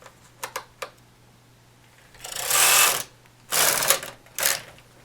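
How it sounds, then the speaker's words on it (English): A knitting machine carriage pulls yarn (two strands) across two rows in separate loud, rattling sweeps of about a second each, preceded by a few faint clicks as the tension is set. "I'm setting my tension, and I'm knitting 2 rows."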